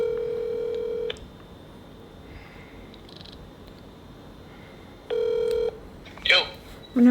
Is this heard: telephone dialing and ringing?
yes